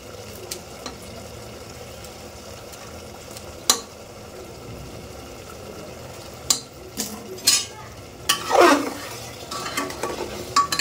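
Chicken masala with chopped green chilies and garam masala frying in a pressure cooker, a low sizzle broken by repeated metal spoon scrapes and clinks against the pot.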